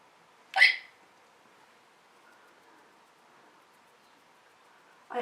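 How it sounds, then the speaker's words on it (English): A single sharp hiccup sounds close and clear early on, then near silence follows with a faint hint of another at the very end. "I always get the hiccups"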